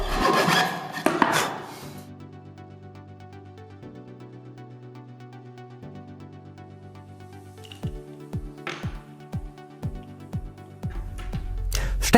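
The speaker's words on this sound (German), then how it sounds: "Nehmen Sie dann die Feile und machen Sie eine Nut" A hand file rasps a groove into a lamp socket cap for an E27 fitting, a steady rubbing drone with a low hum beneath, then a run of short, rhythmic scraping strokes near the end, close and fairly quiet.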